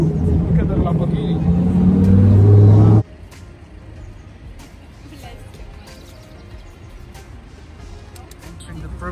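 A Lamborghini's engine roars loud and close for about three seconds with a rising, revving tone, then cuts off abruptly to quieter street ambience while people talk nearby.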